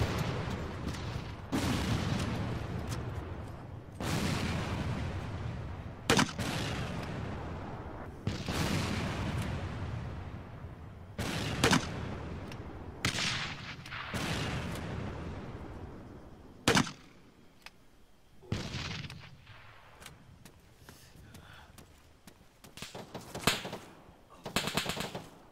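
Gunfire and explosions in a video game battle: repeated bursts of automatic fire and heavy booms at irregular intervals across the whole stretch, loud and close, with occasional faint radio-style voices between shots.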